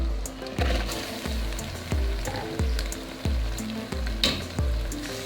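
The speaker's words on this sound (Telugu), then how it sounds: "ఇప్పుడు ఇందులో ఈ చికెన్ ముక్కలను వేసుకోవాలి." Country chicken pieces fry in a pan, a constant sizzle broken by regular low thuds and scrapes roughly every 0.7 seconds as the pieces are stirred and turned, close and alone.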